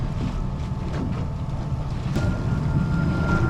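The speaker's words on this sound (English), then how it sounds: "wind's starting to pick up pretty good" Wind blows steadily across a 25 ft North River fishing boat out in the deep South Bay, a constant broad rush with faint gusting and a low rumble, and no speech.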